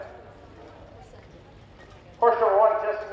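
Harness racing horses trot down the track in front of a grandstand, the hoofbeats faint in the background, while a public-address voice talks and a louder tonal sound breaks in near the end.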